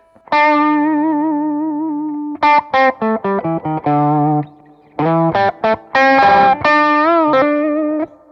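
A Gibson '50s Les Paul Standard Goldtop electric guitar played through a Mjolnir overdrive pedal, ringing distorted chords and short stabbed phrases with sustained notes, loud and close with no talking.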